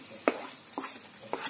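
Ground spices stirred into onion, ginger and garlic paste frying in a pan for a Bengali fish curry: three sharp scrapes of the spoon over a soft, steady sizzle.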